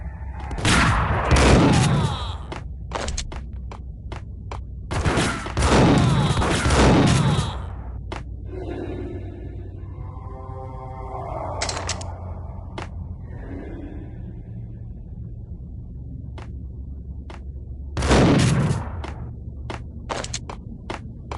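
Gunfire in the Max Payne video game: several loud, close gunshot bursts with booming tails, spaced through the stretch between game sound effects and a few short voice lines.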